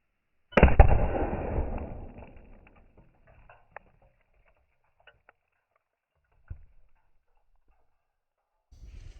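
A .308 Win rifle fires a Sabre Blade Black Tip round into a cinder block: one sharp, loud outdoor crack with a fading rumbling tail, then near silence broken by a small tap.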